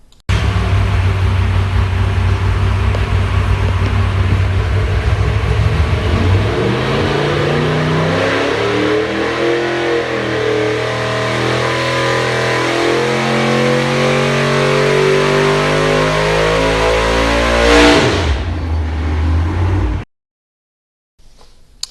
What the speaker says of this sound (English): you can hear that the exhaust pipe slipped off the headers at the end when the engine got really loud